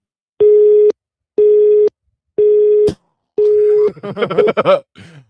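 A telephone busy tone after a call hangs up: four evenly spaced loud steady beeps, alone, followed by a short burst of garbled line noise.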